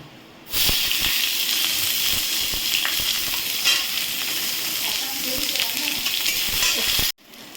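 Onions drop into a pan of hot oil that has been tempered with whole spices, then sizzle in a loud, steady hiss at close range with stirring noises, the frying cutting off abruptly near the end.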